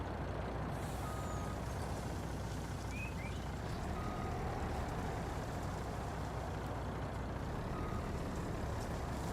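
Heavy truck slowly backing up in Truck Stop Parking Simulator: a steady low diesel rumble with hissing air noise runs throughout, with faint high beeps now and then, and no voices.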